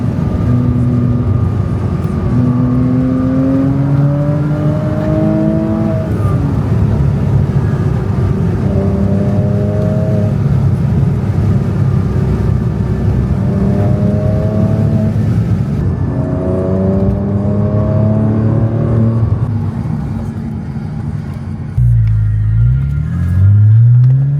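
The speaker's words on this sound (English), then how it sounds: "So we jumped in the car and started driving away" Car engine running steadily with rising and falling gear-shift tones as the vehicle accelerates away, a continuous close rumble inside the cabin with no talk, ending in a low thump and shift near the end.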